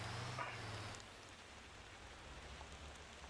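Steady rain in the Motor Town driving game hisses as a soft, even wash of noise, with a low engine rumble fading out early on.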